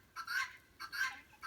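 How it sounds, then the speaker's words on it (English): Farm fowl among many roosters call out in short, loud, bright squawking bursts, three in quick succession, with no speech over them. "Look at all these roosters."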